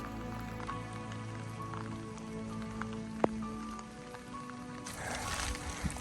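Steady rain falling on a surface on a mountain trail on Mount Kerinci, a constant wash of patter with a sharp tap partway through and a brief gust of noise near the end.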